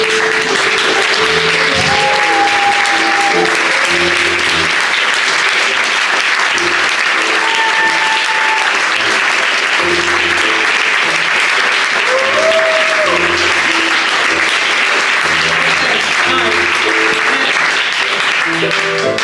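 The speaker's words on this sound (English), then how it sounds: "help me congratulate these ladies by let's giving them a standing ovation" A room gives a standing ovation to four young ladies at Hillcrest Platte County. The applause is loud, sustained and dense for the whole stretch, with a few faint voices and cheers mixed in.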